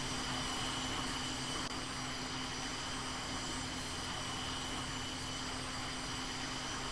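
A jet aircraft taking off in the game VTOL VR, a steady, fairly faint engine roar with an even whine that holds throughout with no talk.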